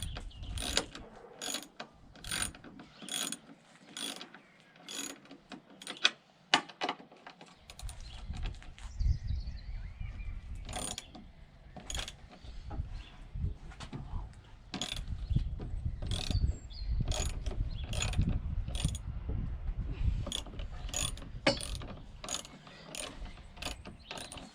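A hand ratchet clicks in repeated bursts while undoing the nuts on a Volvo V70/S60/S80/XC70/XC90 top suspension mount, sharp close ticks in short runs with pauses and some handling noise between them.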